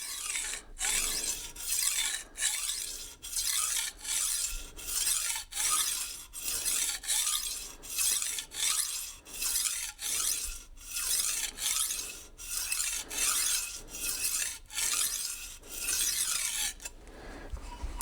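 A knife blade drawn freehand across a sharpening stone in steady repeated passes, each stroke a close, raspy scrape in a regular rhythm with brief pauses between them, no voices.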